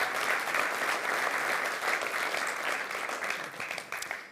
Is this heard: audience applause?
yes